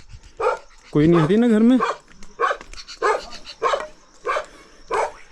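A dog at a house in the hill village of Tatik near Almora barks repeatedly in short, loud bursts, with one drawn-out whining howl early on, while a person talks nearby.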